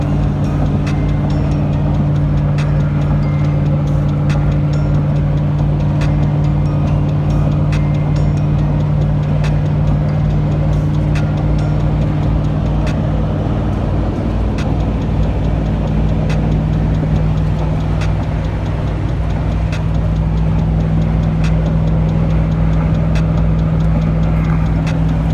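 A truck engine running hard on a dyno, a loud continuous low drone with a steady pitch that holds for the full span, dense and alone without speech.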